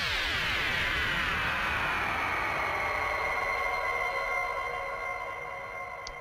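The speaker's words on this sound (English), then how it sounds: "this echo really helps me to get the super long tail" A synth track with an echo effect rings out in a long, lingering tail: bright tones repeat and slowly fade across several seconds, with no one speaking.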